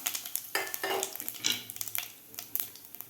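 Curry leaves dropped into hot oil with mustard seeds and cumin, sputtering and crackling close up with quick scraping stirs; moderately quiet, with no talking.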